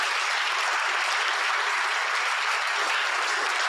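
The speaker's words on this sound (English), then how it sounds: "Definitely a round of applause to that, because what they're doing is outstanding." Applause from a Rotary club audience, a dense, even hiss of many hands clapping together, loud and unbroken throughout with no talk over it.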